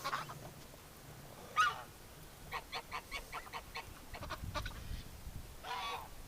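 Geese honk repeatedly in a quick rhythmic run, joined by a few louder honks, close by over steady background noise.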